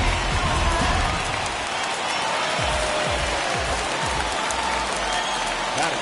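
The home crowd at an MLB baseball game cheers and claps in a steady, dense roar throughout, while a commentator talks over it.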